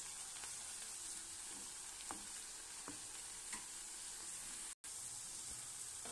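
Amaranth (totakura) leaves fry in a pan with a steady, close sizzle and faint hiss throughout, broken only by one brief dropout.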